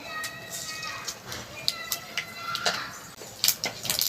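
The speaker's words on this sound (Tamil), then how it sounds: "கடுகு நல்லா புரிஞ்சிருச்சு" Mustard seeds crackle and pop in hot oil with sharp, irregular spatters, while a voice speaks quietly in the background.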